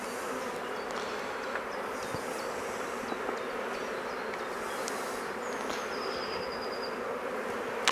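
Honeybees buzz in a dense, continuous drone around an open Maisemore poly commercial hive during an inspection, steady and close with faint scattered clicks and taps.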